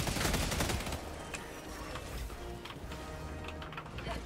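Rapid, loud gunfire bursts from a shotgun in the Helldivers 2 video game, overlapping shots and clatter packed densely through the whole stretch amid a busy battle mix.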